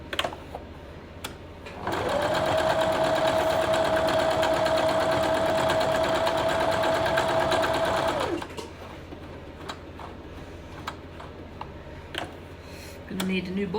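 A sewing machine stitches a Colorado quilt block in one continuous run of about six seconds, a steady whirring hum with a fine mechanical tick, framed by quiet handling clicks before and after.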